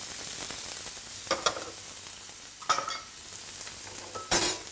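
Onions and garlic sweating in a pan for mushroom risotto, a soft steady sizzle with a few brief scraping stirs, fairly quiet and with no talk.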